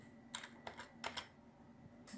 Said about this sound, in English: One hand typing, not very good.